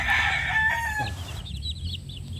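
Asil gamefowl, a Mitra Blue X Speeder cross, give short vocal calls up close, with bright, loud clucking in the first second and a half, then quieter chirps over low background noise.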